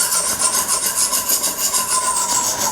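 The back of a knife scrapes built-up residue off an espresso machine's steam wand in rhythmic, close, loud rasping strokes, repeating steadily with no voices.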